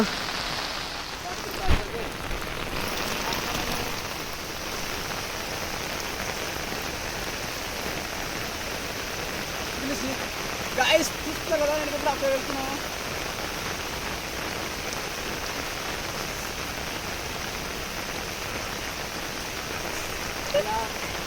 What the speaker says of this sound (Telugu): అబ్బాబ్బాబ్బా, బీభత్సంగా వర్షం పడుతుంది చూడండి